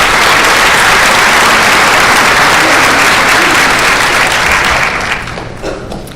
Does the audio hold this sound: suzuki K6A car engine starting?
no